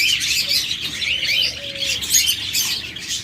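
Pet lovebirds, cockatiels and budgerigars chirp in a busy, continuous chatter of high, bright calls at close range, with one brief low tone partway through.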